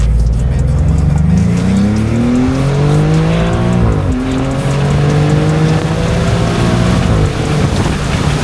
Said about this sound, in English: The sounds this car is making is absolutely insane.